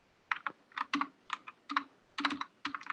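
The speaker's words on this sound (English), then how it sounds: "when you start to type anything" Keys clatter on a computer keyboard in quick irregular bursts of several strokes each, separated by brief pauses, close and fairly quiet against a silent room with no talking.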